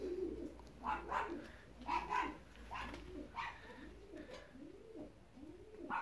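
Fancy ornamental pigeons, young birds from 2018, coo repeatedly in soft rolling phrases, one call after another at close range with low background hum.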